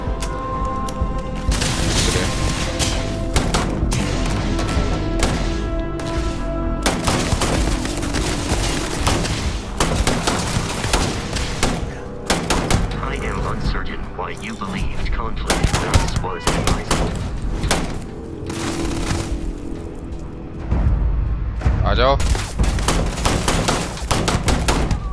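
Video game combat in Starfield: dense, loud bursts of automatic gunfire and booming shots fill the whole stretch, with brief lulls and someone commenting over the action.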